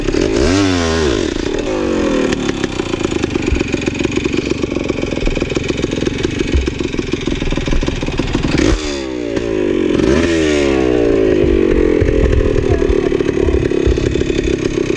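An off-road motorcycle engine on rocky terrain near Henderson Flats, Oregon, is revved hard with the throttle, a loud, close, buzzing drone that rises and falls, with sharp revs and drops near the start and again mid-way.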